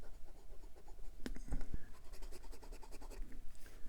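A large, wet-writing fountain pen with a number 9 size 18 karat medium nib scratches across paper in quiet, irregular strokes and taps.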